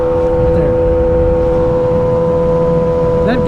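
A 2007 Yamaha R6 sport bike with a full exhaust and Power Commander 5 holds a loud, steady, buzzing engine note close by, its pitch nearly constant throughout with no talking over it.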